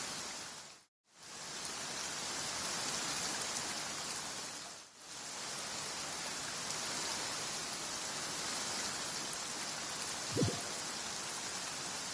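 Rain in the video game Genshin Impact, a dense, even hiss of falling rain that briefly cuts out twice, with a small tap near the end.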